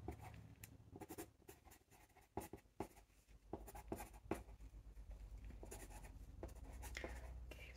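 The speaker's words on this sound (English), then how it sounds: "I'm going to write down the results of that." A pen scratches across paper during an eye exam roleplay, recording results in quiet, close strokes and taps with short pauses between them, alone and softly recorded.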